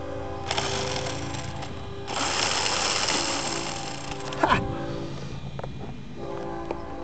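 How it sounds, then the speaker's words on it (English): A brushless Redcat Everest 10 RC truck with a broken transmission grinds and whirs in loud mechanical bursts, with a rattling clatter partway through, and no talk. "Like I blew the transmission out."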